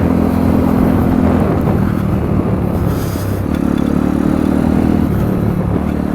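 A 140 CRZ motorcycle engine held at steady high throttle during a wheelie, loud and continuous with a droning tone that shifts pitch slightly midway, no speech.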